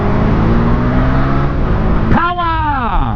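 A 2019 Honda Rebel 300 motorcycle accelerating at full power: a loud, steady engine drone that drops and then climbs sharply in pitch partway through as it pulls harder, close up.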